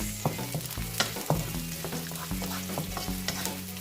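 Spareribs browning in a pan, with a steady close sizzle and repeated clacking stirring strokes and scrapes against the pan.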